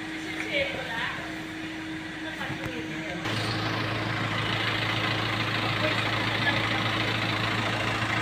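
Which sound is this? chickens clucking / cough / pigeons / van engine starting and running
van engine starting and running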